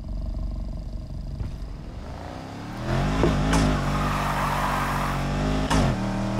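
A stock Porsche Panamera in the racing game NFS Heat drives with a steady engine drone that swells in pitch and volume as it accelerates, with brief gear-shift breaks, heard alone and up close.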